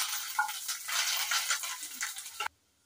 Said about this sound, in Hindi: तेल मेरा बहुत अच्छे से गर्म हो चुका है तो अब तड़का मैं डाल देती हूँ।